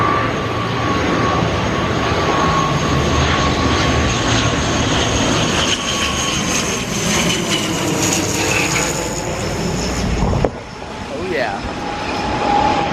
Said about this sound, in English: Look at that plane that is coming here.